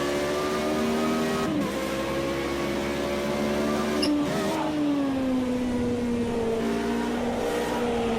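Formula Renault 3.5 race car engine in a racing video game at Monaco, revving hard with rising and falling pitch through gear shifts and braking into the first corner, loud and continuous with no talk.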